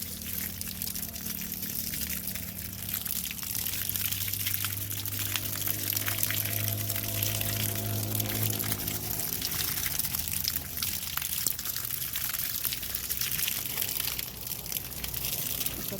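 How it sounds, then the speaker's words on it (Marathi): Irrigation water runs through grapevine rows in a vineyard, a continuous close gush and trickle with rustling and a low engine-like hum in the middle, no talking. "झाडांना पाणी पाजू"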